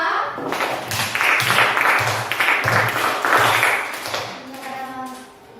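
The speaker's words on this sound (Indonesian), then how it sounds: "tepuk tangan untuk kelompok 2" A classroom applauds group 2 in a rhythmic pattern of clap bursts, loud and near, with children's voices mixed in and a brief ringing tone near the end.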